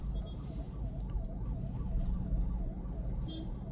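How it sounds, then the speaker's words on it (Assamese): An ambulance siren wails in a steady rising-and-falling cycle as it moves along a city road in Kahilipara, Guwahati, fairly faint over low traffic rumble and engine noise. "এম্বুলেঞ্চ আহিছে এম্বুলেঞ্চ ইফালেদি যাব নে সিফালেদি যাব"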